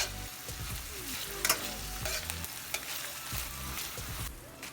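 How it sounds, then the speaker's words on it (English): Pesto and minced garlic are mixed into a calzone filling in a pan, with a constant sizzle under scraping, clattering stirring strokes and a few sharper knocks of the utensil. "And then I'm just going to mix it around."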